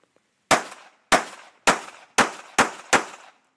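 Six sharp, loud gunshots from a Glock 42 pistol, each a hard crack with a short ringing tail, fired at a steady, slightly quickening pace with no talking in between.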